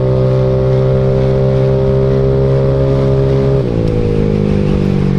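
A Yamaha Mio scooter engine droning loudly and steadily while riding as the throttle is opened, its pitch holding level and then shifting lower partway through, with wind rushing over it.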